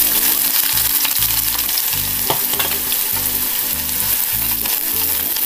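Sliced onion sautéing in hot oil with mustard seeds for a capsicum masala curry, a loud dense sizzle with crackles, under a repeating low rhythmic background tone.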